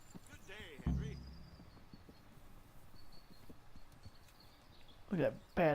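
Horse hooves clopping on a hard surface in the video game Kingdom Come: Deliverance, with a couple of louder thuds near the start and end and a faint background hum.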